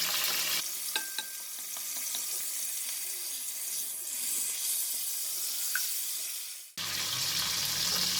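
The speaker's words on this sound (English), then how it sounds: "And then I'm going to fry the salted fish." Salted fish fries in a pan with a steady bright sizzle and a few light clinks from stirring, then cuts off for a moment before the sizzle resumes.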